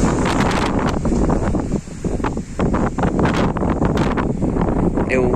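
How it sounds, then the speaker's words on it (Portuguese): Blustery sea wind at Laginha beach in December roars loudly and steadily against the microphone, with a brief lull partway through before the gusts return. "Ai, vento."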